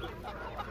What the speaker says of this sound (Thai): ไก่ แบบ นี้ ไก่ป่านะ